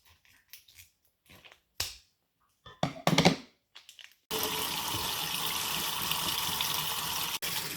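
Cold tap water runs steadily over tofu in a sink, a close, even rushing stream that starts abruptly after a few quiet handling knocks and taps.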